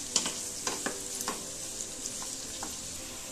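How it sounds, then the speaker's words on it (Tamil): Onions sautéing in a pan for an onion chutney, a soft steady sizzle with scattered light clicks and taps, fairly quiet and close, no talking. "நல்லா வந்து வெங்காயம் வதங்கட்டும்"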